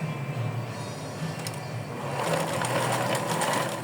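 A sewing machine runs a zigzag stitch along a seam of small doll clothes, a steady close whirring hum that speeds up slightly partway through.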